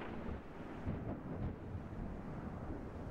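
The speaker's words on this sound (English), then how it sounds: "We got rain." Steady rain and rumbling thunder fill the ambience of the video game Black Future 88, a dense, continuous wash of noise with no pauses or talk.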